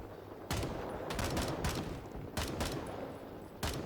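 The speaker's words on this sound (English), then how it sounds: "hang on, I'm shooting at stuff" Rapid bursts of gunfire in the video game Rising Storm 2, dense rifle and machine-gun shots cracking close and loud in clustered volleys across the few seconds, with no talking.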